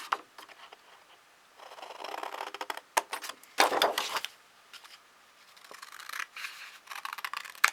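Scissors cutting two small pieces of paper for a spring card, close and quiet, with several brief snipping strokes and paper rustling between pauses.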